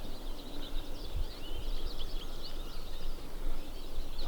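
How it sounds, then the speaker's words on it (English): Dense, steady chorus of high chirping calls from many spring peepers on a farm, continuous and fairly distant, with no talking. "Actually sound like birds."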